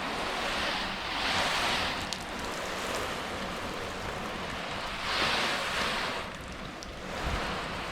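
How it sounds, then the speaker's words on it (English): Water sprays onto a car finished with 303 Graphene Nano Spray Coating, a steady broad hiss that swells and eases in two long bursts, close and fairly loud with no talking. "All right, let's add some water."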